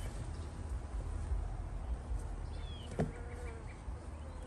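A few honey bees buzz faintly around a hive in a tree, close by against quiet outdoor background noise, with a single sharp knock partway through.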